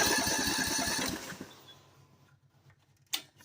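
A Ford 70 engine running without choke after repairs chugs with rapid regular firing pulses, then sputters and dies away into near quiet, followed by a short sharp knock.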